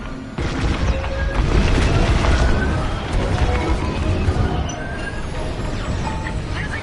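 Ship's dish blowing apart in Star Wars: Squadrons, a loud, dense roar of blast noise and crackling debris that holds steady for several seconds before easing slightly.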